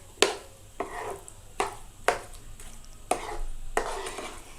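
A spoon stirs a sago, jaggery and apple mixture in a pan in steady repeated strokes, each with a light scrape or knock, close and quiet with no talking.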